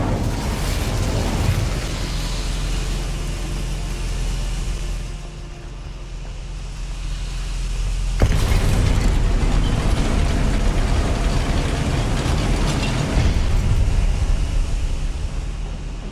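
Incendio fire spell blast in the Hogwarts Legacy video game, a loud roaring whoosh of flame that sustains, dips, then surges again in a second heavy burst before rumbling on.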